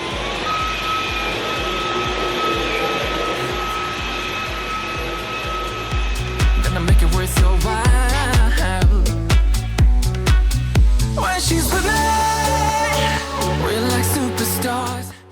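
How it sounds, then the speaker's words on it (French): A vacuum cleaner runs in auto mode on a rug, a loud steady motor whine that turns into rhythmic pulsing surges, then falls to a lower hum near the end. "ça utilise énormément de puissance pour l'aspirateur"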